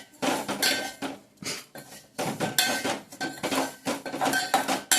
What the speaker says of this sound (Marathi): चांगले भाजून घ्यायचे आपल्याला खमंग मस्तपैकी तुपामध्ये